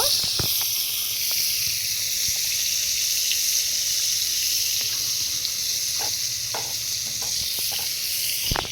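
Pointed gourd (potol) frying in hot oil, a steady loud sizzle and hiss that runs the whole time, with scattered small pops and crackles and a few faint clinks of stirring.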